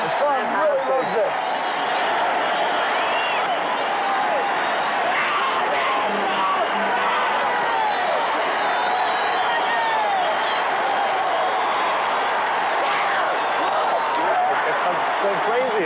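A 4,000-strong crowd cheers at the 1977 Mr Olympia bodybuilding contest, with a dense, steady roar of voices, whoops and clapping that fills the whole stretch without pause.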